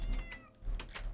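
A kitten in the Minecraft video game meows twice in quick succession, short high-pitched mews close up and alone with no talking.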